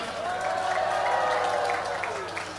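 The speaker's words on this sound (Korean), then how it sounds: "백선엽 장군에 대해서도 큰 박수 한번 해주시기 바랍니다." At an outdoor patriotic rally in Pyeongtaek, a large crowd applauds and cheers, a moderate, steady wash of clapping with a faint drawn-out cheer over it, heard at a distance.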